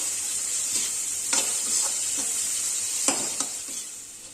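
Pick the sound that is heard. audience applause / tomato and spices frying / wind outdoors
tomato and spices frying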